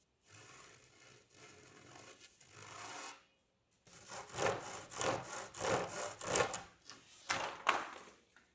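A handsaw cuts a large wooden art panel along a long six-foot cut in two bursts of rhythmic, rasping strokes, close and moderately loud, with a short pause between them.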